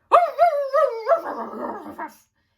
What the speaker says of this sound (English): When he saw Todd, he started to bark triumphantly.